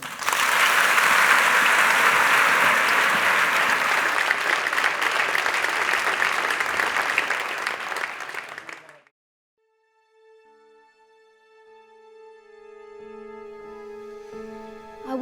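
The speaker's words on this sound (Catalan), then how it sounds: "Ara, però, un fort aplaudiment" Loud sustained clapping from a theatre audience after a play fills the first nine seconds, then stops abruptly as quiet music begins.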